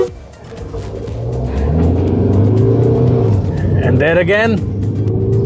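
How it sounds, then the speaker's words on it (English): A Tata Sierra with the 1.5 Hyperion petrol engine accelerating hard, a loud close engine roar that builds steadily and climbs through a rising whine near the end, with someone talking over it. "the Hyperion petrol takes off."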